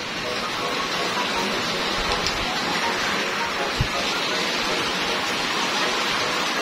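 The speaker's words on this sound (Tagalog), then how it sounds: "lumakas na yung ulan" Heavy rain pours steadily in a broad, constant hiss with a faint low thump partway through, continuous and fairly close throughout.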